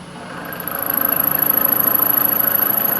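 A machine spindle turns at about 800 RPM while cutting a custom fork brake for a Honda V65 Sabre, a close, steady mechanical hum that builds over the first second into a fast, even pulsing throb.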